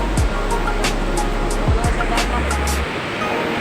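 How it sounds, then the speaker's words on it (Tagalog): Loud rushing water at Wawa Dam in Montalban, Rizal, a steady broadband roar throughout with brief knocks and passing noises on top. "Maingay yung tubig"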